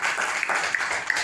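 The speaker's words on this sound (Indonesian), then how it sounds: "Oke, tepuk tangan untuk Indah terlebih dahulu" Brief applause in a school classroom for a student named Indah, a close, continuous patter of clapping lasting only a moment.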